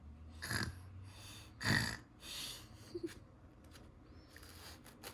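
A voice imitates a cartoon pig character snoring, making a few soft, breathy snore sounds close to the microphone, spaced out over several seconds against quiet background noise.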